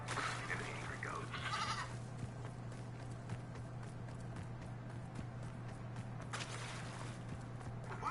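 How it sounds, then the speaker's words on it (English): A goat bleats angrily in a couple of short, strained cries near the start and again later, over a steady low hum and background noise. "So we'll end ours with an angry goat."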